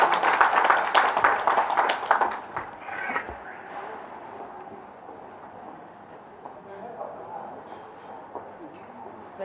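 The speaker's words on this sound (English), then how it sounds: "A round of applause for Madam Fumi." Applause from an audience at a maritime women's day event in Kisumu, loud dense clapping in the first few seconds that fades out to quiet room noise with faint murmurs.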